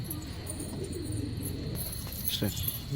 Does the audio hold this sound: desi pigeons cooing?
yes